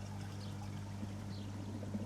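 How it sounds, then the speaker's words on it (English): Water from an airlift falling back down inside a large koi pond filter system, a steady, moderately quiet pouring and trickling over a constant low pump hum, with no voices. "So the water's sort of coming up in the two middles with airlift"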